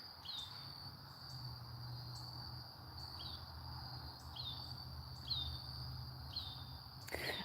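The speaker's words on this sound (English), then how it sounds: "hearing the birds as they're going to sleep." Crickets trill steadily at dusk while birds give repeated short high calls at a regular pace, soft and distant in a quiet outdoor setting.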